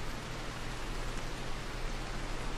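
Rain falls steadily in RimWorld over a colony where a fire is burning, a continuous even hiss of downpour with no breaks and no voices.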